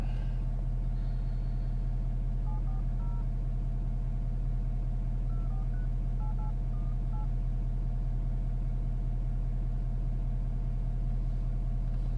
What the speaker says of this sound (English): I'm gonna give him a ring back on the company phone